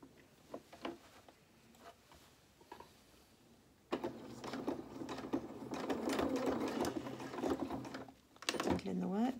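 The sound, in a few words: sewing machine stitching a seam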